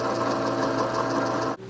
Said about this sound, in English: Now we're ready to run it through the tab notcher and bend it.